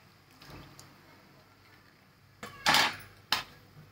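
A utensil clinks and scrapes against a cooking pot while tamarind-jaggery amti is stirred, with a faint knock early on and two sharp, loud clanks near the end over a quiet background.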